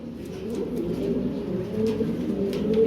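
Several pigeons coo continuously in low, throaty murmurs, close by and overlapping, with no talking.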